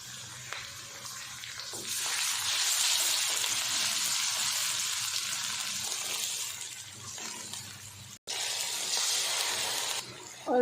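Ginger and garlic sizzle in ghee with onion and cumin in a pan for egg and pea pulao, giving a steady close frying hiss that breaks off briefly near the end.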